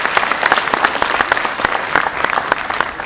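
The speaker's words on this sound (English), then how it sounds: "Please, may we have a big round of applause for our guests" A conference audience applauds its guests with dense, close clapping that holds steady for a few seconds, many hands slapping in an uneven crackle.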